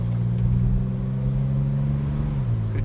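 The engine of a 1965 Chevrolet Corvair Monza coupe with a 2-speed GM automatic hums steadily as it accelerates on the road, a low, even drone that rises slightly in pitch before the shift.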